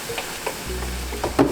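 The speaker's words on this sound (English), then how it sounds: "Put that almond milk. Now I'm just mixing everything in." A spoon mixes a vegan breakfast in a pot after almond milk is added, with almonds roasting on a nearby burner. Several close, soft scraping and stirring strokes sound over a low simmering hiss, with no talk.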